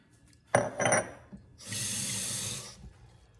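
Water from a sink tap runs in a brief hiss of about a second, after some glassy clinks and handling knocks.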